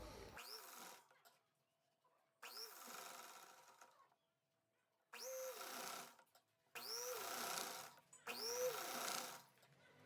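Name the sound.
sewing machine stitching a Rajputi poshak sleeve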